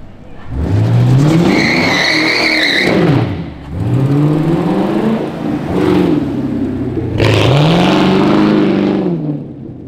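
A car revving hard and swerving on a road, engine pitch climbing and dropping in repeated surges with tire squeal, loud and close across about ten seconds.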